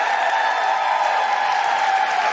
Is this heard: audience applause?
yes